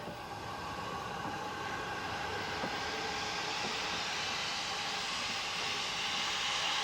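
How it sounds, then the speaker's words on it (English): A coal-fired Ffestiniog Railway narrow gauge steam locomotive, Palmerston, runs with carriages during a 1993 steam festival, producing a steady, continuous rumble and rail noise at moderate distance with faint squeals, no voices. "He is one of the very few coal-fired Ffestiniog locomotives."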